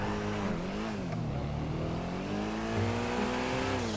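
A car engine revs in GTA 5, a continuous, moderately loud rising and falling engine drone that climbs in pitch through the clip, heard alone without talking.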